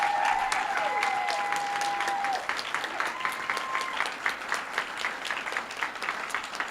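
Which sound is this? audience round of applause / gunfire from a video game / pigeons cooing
audience round of applause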